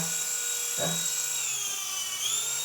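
A small toy drone lifts off indoors, its propellers giving a steady high-pitched whir that shifts slightly in pitch as it climbs, close to the microphone, with a brief knock early on.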